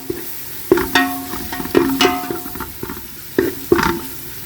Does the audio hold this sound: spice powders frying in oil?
yes